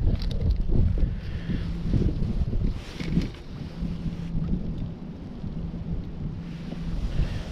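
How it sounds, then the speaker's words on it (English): Strong wind gusting over a trout fishing pond in Austin, Texas, a loud low rumbling buffet across the microphone that swells and eases without letup. "Like that wind in my face."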